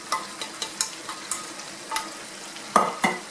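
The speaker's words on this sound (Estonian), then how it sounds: "Ja nüüd võib panna siis küüslaugu ka sisse. Kapitud küüslaugu." Chopped garlic tumbles into a hot pan of frying potatoes and vegetables, giving a series of soft scrapes and stirs over a quiet sizzle, with two louder clatters near the end; no voices.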